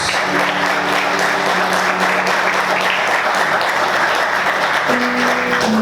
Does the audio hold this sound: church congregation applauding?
yes